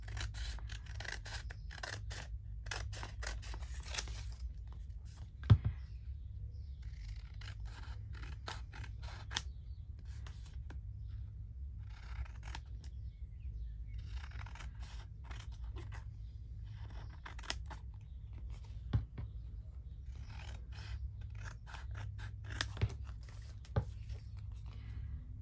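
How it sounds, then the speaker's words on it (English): Scissors cutting paper flush to a backing paper in a papercraft file-folder project: a long run of quiet, rapid snipping strokes in uneven bursts, with a few sharper clicks, close and alone. "here I'm going to cut flush to my backing paper"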